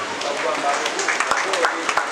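An audience claps at a BJP welcome gathering for newly appointed treasurer Satish Garg in Ashok Vihar. The clapping is a dense, steady patter with a few sharper claps, and voices run beneath it.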